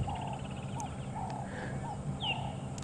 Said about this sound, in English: So yeah, we've got beautiful birds, Cape turtle dove